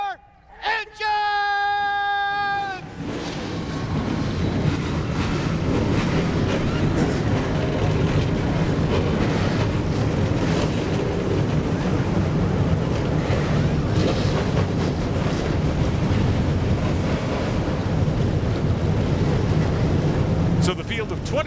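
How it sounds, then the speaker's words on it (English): Field of 26 ARCA Racing Series stock cars firing their engines at Winchester Speedway in Indiana, a dense loud roar that builds after a brief start and holds steady, with a voice talking over the start. "the field of 26 ARCA Racing Series machines, motors coming to life here at Winchester Speedway in Indiana"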